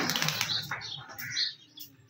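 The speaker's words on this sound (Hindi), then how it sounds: "इस वाली कबूतरी का जो अभी उड़ी थी उसका कबूतर आएगा" A short burst of wing flaps as a pigeon takes off, close and fairly loud, fading out within a couple of seconds.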